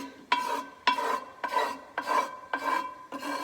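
A whisk drags roux through a big pot of gumbo in six regular scraping strokes about half a second apart, each a close, gritty rasp against the metal.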